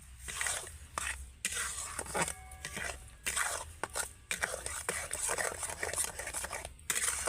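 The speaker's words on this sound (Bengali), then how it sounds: "এবার আমি ভালো করে এই চিনি লবণ আর আমটাকে ভালো করে মিশিয়ে নেব" Ripe mango mixed with sugar and salt, stirred in a bowl with repeated soft, wet scraping strokes in a steady rhythm, close up and moderately loud.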